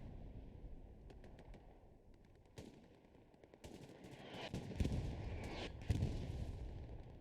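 Artillery and gunfire in the online war game Hell Let Loose during a competitive esports match, with a steady battlefield rumble broken by scattered distant shots and several louder booming impacts toward the end, and no voices.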